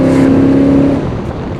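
A Chevrolet Chevelle SS engine revs close by, a strong steady roar with a rising tone for about a second before easing off into a lower idle rumble.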